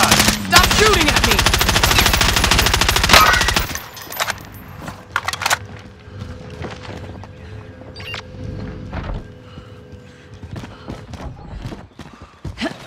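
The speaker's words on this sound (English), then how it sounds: "Stop shooting at me!" Rapid automatic gunfire from the Call of Duty: Modern Warfare video game bursts loudly for about four seconds, then gives way to scattered single shots and clatter over a quieter background.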